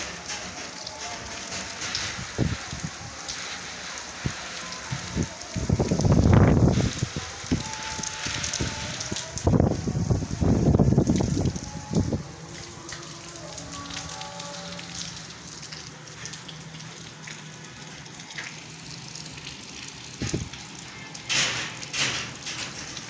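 Steady heavy rain hisses and patters close by in Jhelum, Pakistan, with heavier rushing bursts and occasional thumps, no talking.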